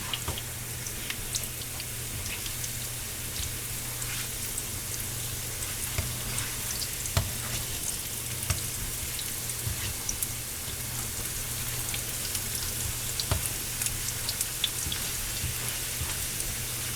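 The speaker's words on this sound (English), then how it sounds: "I'm going to fry some eggs." Eggs frying in a pan, a steady dense sizzle and crackle with scattered sharp pops, continuous and close throughout with no talking.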